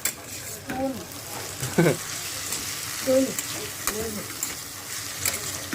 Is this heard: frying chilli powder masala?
yes